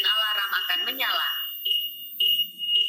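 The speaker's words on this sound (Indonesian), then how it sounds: "Langsung bunyi alarmnya." Anti-theft alarm on a smart motorcycle with WiFi control sounding after the engine is cut, repeated electronic beeping tones following a stretch of close talk.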